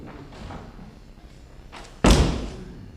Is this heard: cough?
no